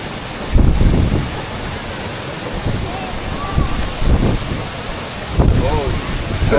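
Strong wind gusts on a mountain roar in broadband bursts against the microphone, with people talking intermittently over the rumble.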